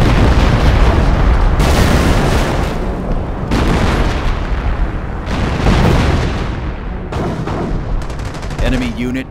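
Heavy artillery barrages thunder through a Company of Heroes battle, with repeated booming impacts and dense gunfire forming a continuous loud roar, punctuated by a few distinct surges of blasts.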